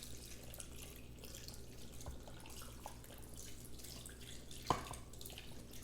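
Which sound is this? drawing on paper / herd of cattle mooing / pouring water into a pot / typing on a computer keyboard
pouring water into a pot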